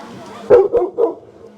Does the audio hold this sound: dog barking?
yes